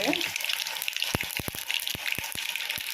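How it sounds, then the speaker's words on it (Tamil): Food sizzles steadily in hot oil, with a bright crackling hiss and several sharp pops and spatters scattered throughout. "இப்போ வந்து நல்லா பொரியுதுப்பா."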